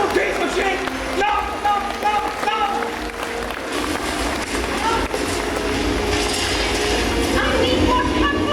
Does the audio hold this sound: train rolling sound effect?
yes